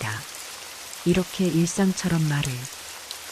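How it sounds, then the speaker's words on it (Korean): A rain sound effect in a Korean audio drama hisses steadily under a narrator's voice, which speaks over it for most of the passage. "빗소리는 처음엔 조용했지만 점점 굵어지고 거세졌고"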